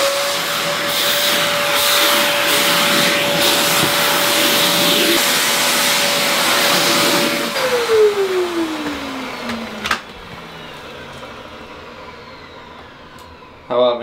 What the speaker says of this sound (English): I feel like I'm always vacuuming this bathroom.